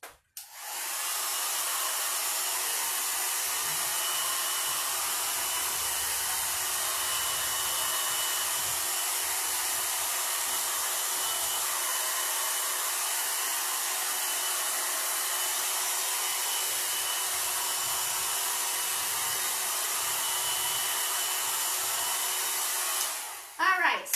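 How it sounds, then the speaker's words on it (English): A hair dryer blowing steadily to dry paint during a kids' art session, a continuous loud whirring hiss from start to end, then cutting off at the close. "I'm going to use that hair dryer, and I'm going to dry this a little bit."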